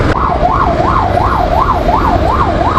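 An ambulance siren wails steadily in traffic with a regular rising and falling tone, loud and close, over a constant road rumble and truck noise.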